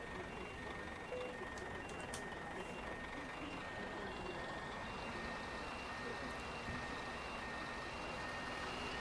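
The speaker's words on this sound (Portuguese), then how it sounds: "Vamos estar dando uma rezinha aqui para nós sair com o nosso ônibus aí" A bus in Euro Truck Simulator gives off steady, repeating reversing beeps over a constant low engine hum, with a faint tone running throughout.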